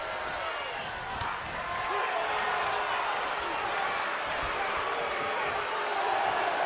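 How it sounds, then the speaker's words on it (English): A large crowd roars continuously at a professional wrestling match between Chris Bey, Tomohiro Ishii and Ricky Starks, a dense, steady wash of cheering and noise that fills the arena, with a commentator's voice faintly underneath. "The sound of this crowd is deafening"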